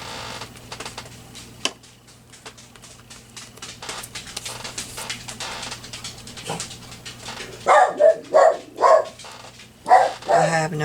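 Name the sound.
dog barking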